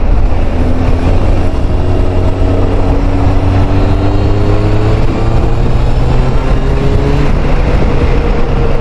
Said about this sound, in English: Next note of the exhaust, the Delkovic 350mm carbon exhaust